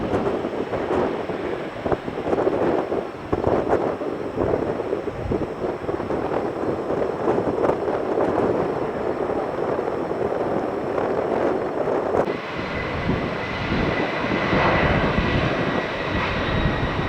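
An airliner rotates on takeoff at Tampa airport, its jet engines giving a sustained broadband roar over buffeting wind noise for the whole stretch, with the tone shifting partway through.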